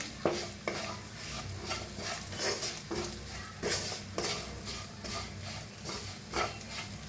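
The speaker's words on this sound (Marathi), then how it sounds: "मसाला छान भाजा लागला एका साईडला करायचा असा" Spice masala with coriander powder and salt is roasted in a pan with fried potatoes for an okra dish. A spatula scrapes and stirs steadily with repeated soft clinks over a light sizzle, with no talking.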